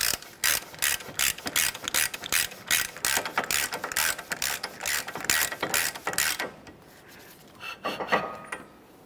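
Hand ratchet clicking in quick repeated bursts as the axle nut on a 2014-2019 Toyota Corolla steering knuckle is snugged up, close and loud, pausing briefly near the end before a final short burst.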